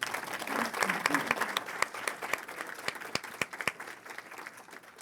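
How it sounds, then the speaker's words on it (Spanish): Audience applause for a panel at a civic education observatory report session, a steady wash of many hands clapping with sharp individual claps standing out, moderately loud and continuing throughout. "Les solicito, por favor, un fuerte aplauso para nuestros panelistas"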